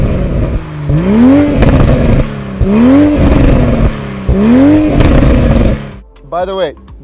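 A car engine starts up and revs, with three loud rising sweeps in pitch, each dropping back, before a short, fainter burst at the end.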